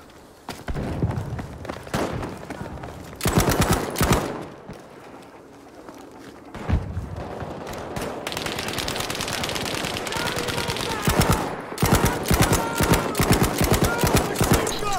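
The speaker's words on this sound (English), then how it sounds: "it sounded like a paintball gun shooting" Rapid bursts of gunfire from Battlefield V on the Rotterdam map, popping like a paintball gun, come in loud repeated volleys with brief pauses between them, mixed with battlefield noise and some talk.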